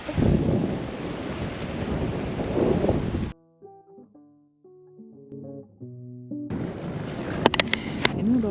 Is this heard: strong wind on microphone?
yes